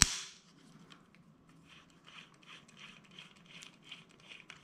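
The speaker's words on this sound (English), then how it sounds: "Take a, which one is it, a 4mm and undo the screw at the front here" A hex key ratchet works loose a 4mm screw on a LESHIY 2 air rifle, giving a quiet run of small rapid clicks that repeat steadily near at hand.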